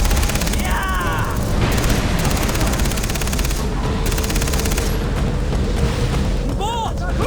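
Far Cry 3 gunfire aimed at a boat, a dense stream of loud rapid shots and booming impacts that fills the whole stretch, with someone talking over it.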